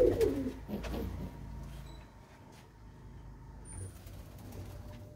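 Large pigeons coo from a loft with low calls up close, clearest at the start. The sound then drops into a quieter background hum with some traffic-like rumble.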